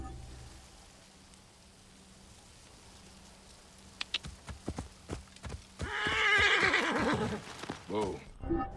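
A poisoned horse in Assassin's Creed Origins snorts and gives a loud, close whinny after a run of sharp hoof clops, over a faint steady background hiss.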